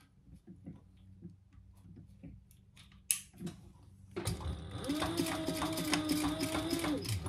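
A sewing machine stitching a Shambala Almendra bag starts after a few soft clicks and knocks, then runs in a steady, close, rapid whir that lasts to the end.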